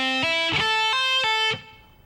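Distorted electric guitar plays an arpeggio lick across the high strings, a handful of clear picked notes in quick succession. It sounds up close and alone, then fades to a short ring.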